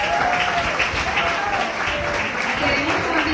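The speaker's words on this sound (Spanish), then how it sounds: "un aplauso fuerte" Strong applause from an audience at a graduation ceremony, dense and steady for the whole stretch with no gaps, near and fairly loud.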